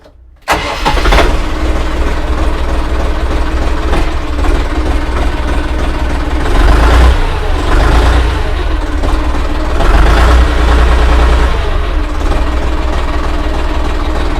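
A Lovol 244HC tractor engine cranks and catches after a short silence, then settles into a loud, steady diesel idle with a deep low rumble that carries on to the end.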